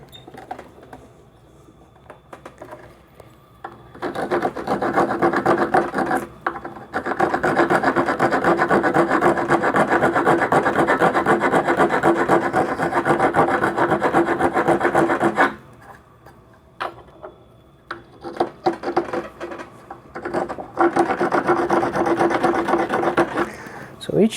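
WoodRiver riffler rasp filing across hardwood end grain: steady, loud rasping strokes in two long bursts with a quieter pause between, up close.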